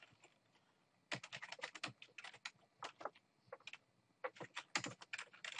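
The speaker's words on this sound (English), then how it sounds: "Just type the website address" Quick, close clicking keystrokes on a computer keyboard typing a website address, in irregular bursts with short pauses, quiet and alone.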